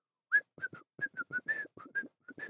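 A person whistles a quick run of short, chirpy notes imitating birdsong, about a dozen separate bursts, fairly close and alone with no talk.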